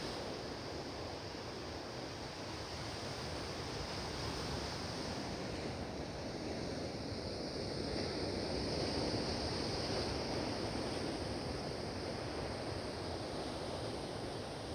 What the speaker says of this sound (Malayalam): അവിടെ നോക്ക് നല്ല പൊക്കത്തിൽ തിരമാല അടിക്കുന്ന ഇത് കാണുന്നുണ്ട്